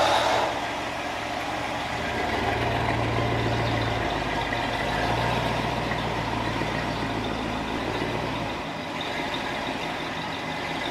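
Ford Thunderbird engine idling in park, a low, steady rumble with a faint droning hum that rises and falls slightly, fairly quiet and unbroken, with no talk.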